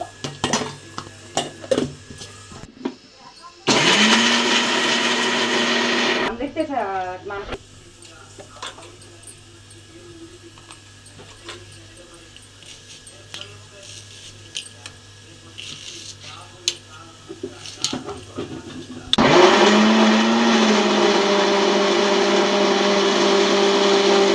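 A kitchen mixie grinds cinnamon, cloves, star anise, cardamom and a little coconut in loud roaring bursts at the start and near the end. Quieter clinks and scraping fill the stretch between them.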